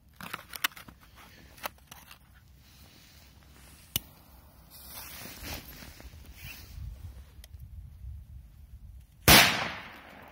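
After some light rustling and scattered small clicks, a Big Bomb triangle firecracker goes off outdoors with a single loud, sharp bang near the end that trails into a brief rumble.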